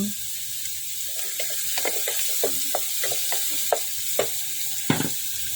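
Garlic frying in a pan for ginataang santol, a steady sizzle under a series of sharp scraping and clinking stirring strokes, close and fairly loud, with no talking.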